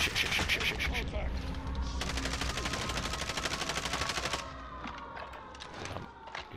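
Rapid bursts of automatic gunfire in a battle-royale video game rattle loudly and closely, with a sustained volley in the middle followed by scattered distant shots.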